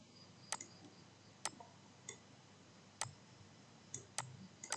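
A computer mouse clicks during work in Simulink software, producing sharp, faint, isolated clicks spaced irregularly about a second apart over a quiet background, with no talking.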